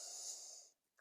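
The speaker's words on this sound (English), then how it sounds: "So a really lovely practice, alternative nostril breathing." A single slow breath drawn through one nostril during alternate nostril breathing practice, a soft airy hiss heard close and alone, steady before fading to silence, then a brief new intake at the end.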